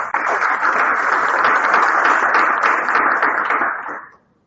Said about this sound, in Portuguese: vamos novamente dar uma salva de palmas